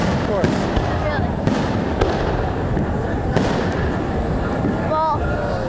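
A continuous barrage of fireworks bursts over Central Park, with dense crackling and booming and a few whistling shells near the end, while voices in the crowd talk throughout.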